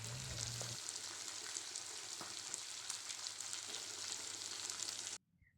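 Whole spices and crushed black peppercorns for a meat curry tempering crackle and sizzle steadily in hot oil, a dense continuous fry heard up close, then cut off abruptly near the end.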